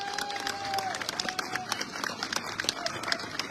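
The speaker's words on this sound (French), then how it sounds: "Vous pouvez déjà leur donner une salve d'encouragement et d'applaudissements" An audience at a closing ceremony claps and cheers, sustained scattered applause with some crowd noise over a steady background, moderately loud.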